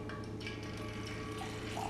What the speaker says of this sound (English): That's a straight up street style chai with the long pour.